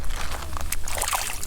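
A small bluegill caught on an ultralight rod is let back into the water with a brief splash and a few sloshes, followed by light watery movement with no talking.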